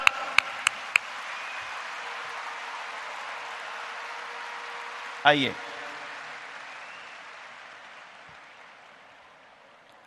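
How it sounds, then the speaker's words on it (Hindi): At a ceremony marking the 200th birth anniversary of Maharishi Dayanand Saraswati, attended by the Prime Minister, a large audience's applause sounds as a soft, distant wash after a few sharp knocks, with one brief spoken word, then slowly fades. "तालियां की गड़गड़ाहट।"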